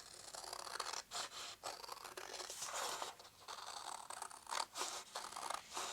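Scissors cut through patterned paper for an autumn scrapbook page, a faint, close sequence of crisp snips and rustling slides with brief pauses between strokes, and nobody speaking.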